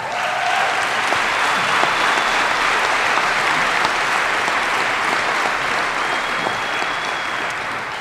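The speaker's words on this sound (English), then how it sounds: "You guys are a little bit slow on the applause there" A large audience applauds at a law enforcement graduation ceremony, a dense, even wash of clapping that holds steady for the whole stretch.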